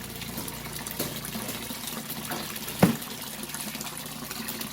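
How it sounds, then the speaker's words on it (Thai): A homemade aerator in a carp fish pond splashes water into bubbles with a steady, moderately loud gushing and churning and one brief knock partway through. "ก็น้ำก็ต้องเห็นให้มันโดดแบบนี้ ก็จะเกิดฟองเลยเนี่ย"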